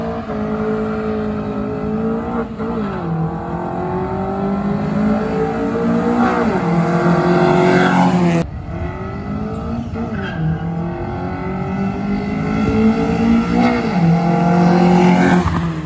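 Toyota Corolla AE111 with a 4AFE engine fitted with a velocity stack, revving loudly and repeatedly, pitch climbing and falling through several sustained pulls with a brief cut near the middle, close and continuous.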